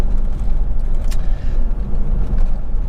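A Volvo XC90 2.4 D5 Geartronic automatic AWD diesel driving, its engine and road noise a steady low drone heard from inside the cabin, with slight dips where gears change smoothly.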